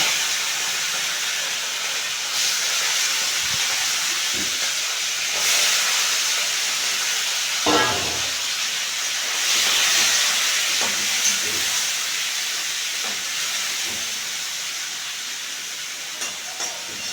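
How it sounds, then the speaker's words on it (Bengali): Shrimp dropped into hot oil in a frying pan sizzle with a loud, steady hiss that fills the whole stretch, broken by a few faint clinks and one louder clatter partway through. "এখন আমি চিংড়ি মাছগুলো দিয়ে দেবো"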